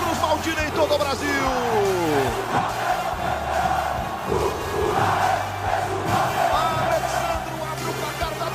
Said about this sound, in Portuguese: Faz a festa a torcida do Vasco.